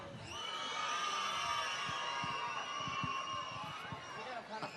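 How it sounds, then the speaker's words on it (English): At an outdoor tree lighting, a crowd of children screams as loud as they can, a sustained, high-pitched chorus of shrieks and whoops that swells and holds for several seconds before fading with scattered cries. "I want you to scream as loud as you can."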